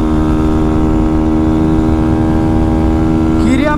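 A modified Honda Fan 160 motorcycle engine drones loudly and steadily at high revs, its buzzing tone holding level before climbing sharply in pitch right at the end as it accelerates.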